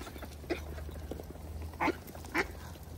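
Wild ducks in a park give a few short quacks, around three distinct calls at moderate distance over quiet outdoor background.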